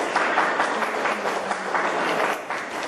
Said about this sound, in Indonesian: Masih tepuk tangan semua.